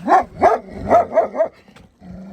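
A dog barks five times in quick succession, close and loud, then goes quiet except for a low growl.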